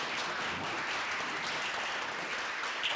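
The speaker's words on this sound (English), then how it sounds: "I want everybody to stand up and give him a big hand of applause." Elementary school gathering applauding a staff member; a steady wash of clapping from many hands, moderately loud, with no talk over it.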